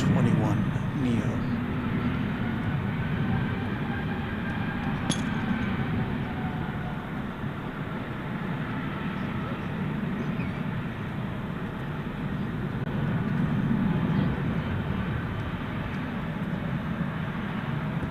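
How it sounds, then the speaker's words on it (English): Airbus A321neo, Flight 1768 to Phoenix, at DFW airport at night: a continuous low jet rumble, moderate and steady, rising slightly toward the end, with a voice talking over it. "This would be Flight 1768 to Phoenix, Arizona, an Airbus A321 Neo."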